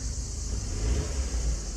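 A Mercedes-Benz C300 Cabriolet engine gives a brief, steady low rumble, close and even in level, with no voices.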